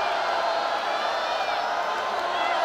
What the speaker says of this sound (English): Look at the crowd roar here in Zhuhai, China